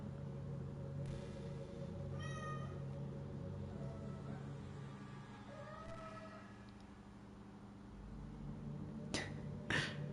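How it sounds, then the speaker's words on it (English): A house cat meows repeatedly in short rising calls through a steady game soundtrack, fairly close, with a couple of sharp clicks near the end. "Oh, shut up, cat."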